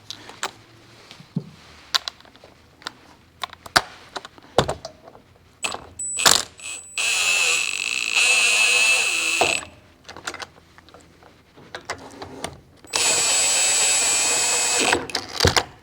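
Ratchet running down 12-point caliper retaining bolts during a Wilwood TX6R big brake kit install on a 2024 Ford F150 4x4: close, fast clicking bursts broken up by two longer, loud whirring stretches of mechanical spinning.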